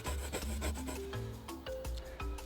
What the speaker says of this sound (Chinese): 我决定打磨一根木棍去挖点虫子吃